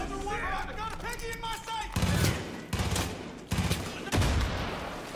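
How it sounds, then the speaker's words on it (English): Shotgun blasts in the Far Cry 5 video game, several loud, broad booming shots spaced about a second apart, following an early stretch of game voices and chatter. "Shotgun gets the job done."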